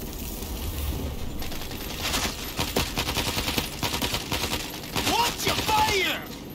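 Dense, continuous automatic gunfire in the World War Z Aftermath Kamchatka level rattles steadily at moderate volume, swelling in several heavier stretches with sharp metallic clinks near the end.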